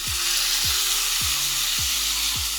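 Peanuts, onion and tomato sautéing in a pan, a loud steady sizzle broken by five evenly spaced low scraping thumps of stirring.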